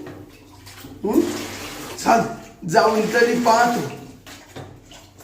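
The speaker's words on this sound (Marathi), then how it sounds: "पाण्याचा आवाज येतोय. वहिनी का आंघोळ करते काय ना." Water runs steadily in a bathroom where someone is bathing, a continuous splashing rush with a voice talking over it at times.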